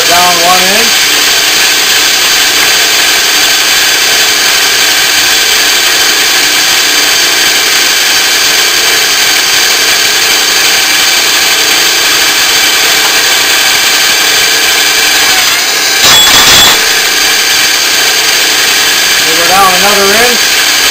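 A machine running near 600 RPM drives an oiled tap through an Enco tapping head to thread large holes, a loud steady hum and whine with a brief clatter near the end and faint talk over it.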